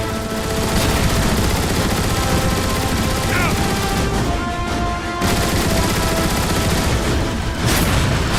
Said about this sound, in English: Rockets activated.